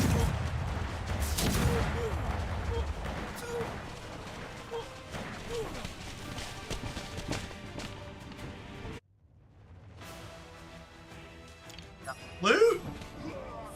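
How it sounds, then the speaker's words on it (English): Cannon fire during a pirate battle in the video game AFK Journey, a series of booming blasts and crashes, strongest early and fading in and out, mixed under frequent speech. "Oh, Peggy's got cannons."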